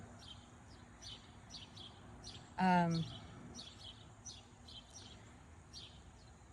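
A single bright bird chirp rings out in a garden on a quiet morning, a brief rising call standing out over faint background ambience and repeated soft ticking sounds.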